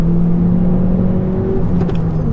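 Hyundai i30N Performance 2-litre turbo engine revving steadily, a sustained close droning note that holds then eases slightly, with no voices over it.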